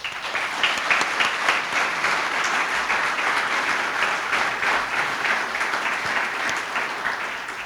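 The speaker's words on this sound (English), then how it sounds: "They deserve a round of applause for all that they do." Warm, continuous applause from a room of attendees at a chamber of commerce annual meeting, evenly dense clapping with no pauses throughout.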